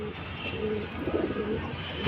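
Pigeons cooing softly in a pigeon loft, a few low throaty coos over a quiet steady background, no voices.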